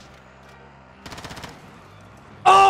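Machine gun fire in the Warzone video game: a short rapid burst of about eight shots, then a loud sustained blast of fire that cuts in at the end, with no talk over it.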